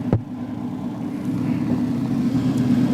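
Fire truck engine revving at a firematic tournament, a low loud motor rumble that swells and holds steady after a brief thump, with no voices.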